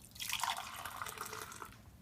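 Hot water pours into a Melitta pour-over coffee cone and cup, producing a soft, steady trickling and splashing stream that stays faint and continuous, with no talking.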